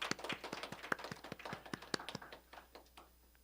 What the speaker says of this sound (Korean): 우리 영광의 박수를 드리겠습니다.